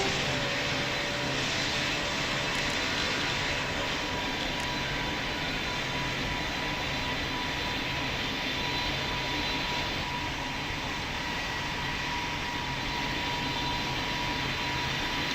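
An airliner comes in to land on runway 26 in Roblox Pilot Training Flight Simulator, its jet engines giving a steady, moderately loud whine and rumble that runs unbroken with no voices.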